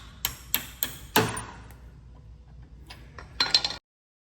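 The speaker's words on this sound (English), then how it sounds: "so apparently you need a hammer too" A hammer knocking on a stuck K&N oil filter on a 2014 Triumph Thunderbird Commander. Four sharp metallic strikes come in quick succession, followed by a pause and then a short rattling clatter.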